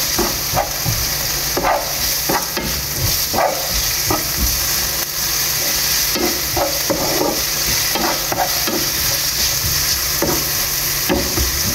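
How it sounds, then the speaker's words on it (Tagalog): Onions being stirred and sautéed in a pan while cooking chicken musakhan, a steady frying sizzle with repeated scraping stirs and spatula knocks throughout, close and fairly loud, no talking. "haluin lang natin siya at lumambot lang yung sibuyas"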